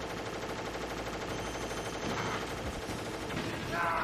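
Steady gunfire and game sound from Metal Gear Solid on the PlayStation 1, a faint, continuous rattle of shots under a constant background with a few louder moments near the end.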